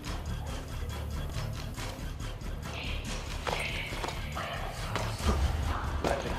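Horse hooves clip-clop in Assassin's Creed Brotherhood gameplay, a steady rhythmic trotting beat under dense game sound and background music, moderately loud throughout.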